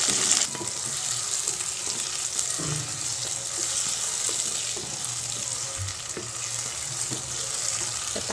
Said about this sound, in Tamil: இப்போ தக்காளி போட்டு கொஞ்சம் நேரம் வதக்கலாம்.